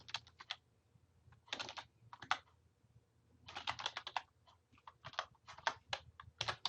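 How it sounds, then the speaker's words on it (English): Rapid keystrokes on a computer keyboard as a long access code is typed, coming in quick clattering bursts separated by short pauses, close and clear with no talking. "you'll type in a very long list of letters"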